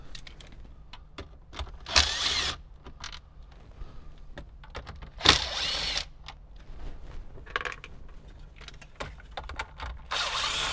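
A power tool whirs in short bursts while backing out the four 7mm bolts that hold the radio in a Jeep Wrangler dashboard, with clicks and handling noises between the loud spurts.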